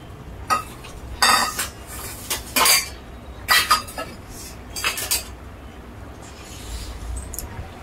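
A spoon stirs goat head curry in a metal pot, producing scraping clinks in several short bursts with quiet gaps between them, moderately close.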